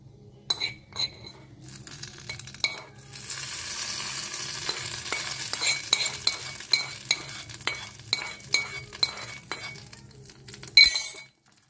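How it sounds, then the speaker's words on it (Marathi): Hot tadka with urad dal poured from a small pan into chutney, a sudden loud sizzle that crackles on for several seconds with sharp metallic clinks of a spoon, then dies away. "आतां जे तडका आहा पळय तेतून घालता. अशें गरम आहा"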